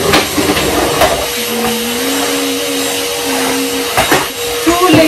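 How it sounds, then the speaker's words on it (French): Vacuum cleaner running in a bedroom, a loud steady droning whine with a wavering motor tone and occasional bumps and clunks as it is pushed around. "Tous les jours, je passe l'aspirateur dans cette chambre."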